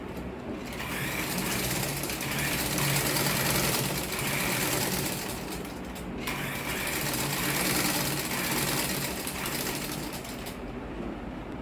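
A sewing machine stitches a two-piece cap with a bow tie in a fast, continuous whirring run, pausing briefly partway through before starting again, heard close and without talk.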